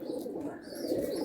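Pigeons of Andhra and Madrasi breeds coo at a pigeon sale in Naihati, a soft continuous low murmur of cooing throughout, fairly faint against a busy background.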